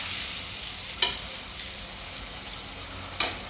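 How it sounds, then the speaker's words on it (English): Beef pieces deep-fry in hot oil for crispy sweet and sour sesame beef, a continuous close bubbling sizzle broken by two sharp clinks or stirs about two seconds apart. "the meat is floating up. It should be ready. Been cooking about 3 to 4 minutes now."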